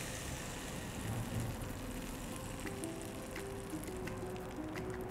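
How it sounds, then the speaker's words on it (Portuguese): Cake batter poured into a preheated frying pan gives a steady, faint, crackling sizzle that runs continuously with fine popping textures and a low background hum, with no voices. "Vamos colocar a massa na nossa frigideira pré-aquecida."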